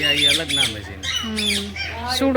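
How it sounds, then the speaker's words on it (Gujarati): Many Alexandrine parrots squawk close by in a dense, continuous stream of loud, harsh, rising and falling calls that overlap one another. "પહાડી પોપટ આ રહ્યા કેટલા બધા પહાડી પોપટ"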